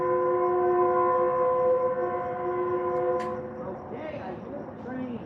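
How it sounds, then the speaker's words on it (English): A distant train sounds a long, steady horn blast that fades away after a few seconds, leaving quieter outdoor background noise. "Okay, I hear the train. It's nowhere near me."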